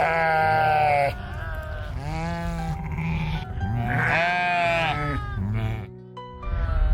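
A large flock of some 600 to 700 sheep and goats returning to their pens near the Sunanda Devi base camp meadows bleats loudly and overlappingly, many wavering cries layered close together with no pause.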